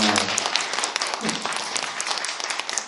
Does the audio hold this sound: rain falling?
no